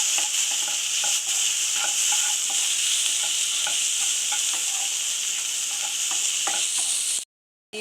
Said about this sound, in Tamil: இப்போ நம்ம கட் பண்ணி வச்சுக்கிற பலாப்பழத்தை இதில் வந்து சேர்த்து நல்லா வறுத்துக்கலாம்.